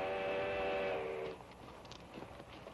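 A train whistle blows a steady, harmonic tone for about a second in a 1955 Western film, then fades, leaving faint rumbling and clattering in the distance.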